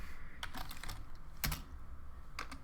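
Computer keyboard typing while writing Python code: a few short clusters of key clicks separated by pauses, close and fairly quiet over a low background hum.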